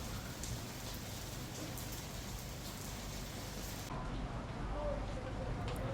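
Rain falls steadily outside a Starbucks café's rear outdoor seating area in Hong Kong, a continuous dense hiss of drops on surfaces, faint and unbroken.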